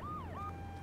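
Ambulance siren in GTA III, a wailing tone sweeping up and down twice, fairly loud over a low steady engine drone, with no voices.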